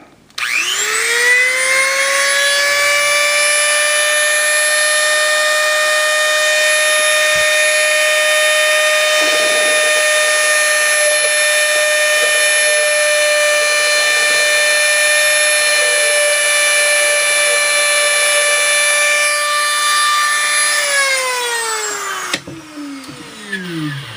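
A power tool bit cuts a window opening in a Voyager build, a loud steady high-pitched whine with stacked tones running continuously for about twenty seconds before winding down.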